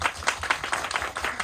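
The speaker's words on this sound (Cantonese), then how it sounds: "我哋先俾啲掌聲" Audience applause at a film screening and post-show sharing session, a brisk burst of many hands clapping in an uneven patter, fairly close and loud.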